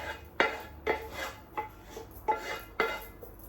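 Heavy metallic clanks and scrapes of a cast iron frying pan being moved around, about six knocks at uneven intervals, close by with no talking.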